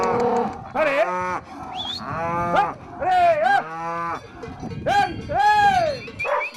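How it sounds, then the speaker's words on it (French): Cows being weaned from their calves moo repeatedly and loudly close by, a series of long, wavering bellows from several animals overlapping, with faint cowbell clanks in the background. "le sevrage c'est très dur parce que les vaches vont pleurer longtemps"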